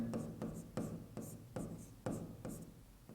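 Rhythmic scratching strokes of writing on a board during an electronics lesson on FET transistors, close and steady, with regular pen or chalk taps across a few seconds, no talk.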